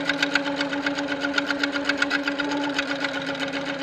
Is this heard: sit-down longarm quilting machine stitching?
yes